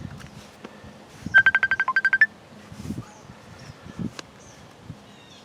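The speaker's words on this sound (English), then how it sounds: "now my phone's ringing." A short burst of rapid electronic beeps from a mobile phone, about ten quick pulses, then quiet rustling and a few soft bumps.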